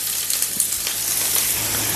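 Sliced onions and chillies sizzle in hot oil in a pan while an egg fry dish is being made. A steady, close crackling hiss runs throughout with small pops, and no one speaks.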